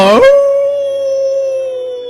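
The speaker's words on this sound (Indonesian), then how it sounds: "Anjing melolong" A dog lets out one loud, sustained howl that starts with a rough yelp and settles into a long, steady tone held for about two seconds, close and alone.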